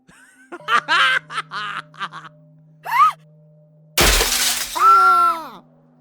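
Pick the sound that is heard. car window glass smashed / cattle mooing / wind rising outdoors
car window glass smashed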